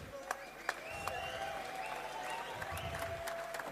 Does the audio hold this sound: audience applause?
yes